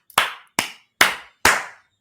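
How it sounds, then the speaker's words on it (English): Four sharp, separate hand claps ring out in a slow, even rhythm, close and loud in a quiet room with no talking. "Clapping."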